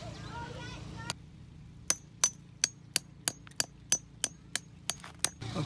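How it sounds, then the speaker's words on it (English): A hammer drives metal stakes or bolts with washers into solid ground, about a dozen sharp metallic strikes at a brisk, slightly uneven pace, close and clear, with a voice talking briefly just before the strikes begin. "Once we started hammering in, this terrain is pretty solid, so Glenn here has some metal bolts"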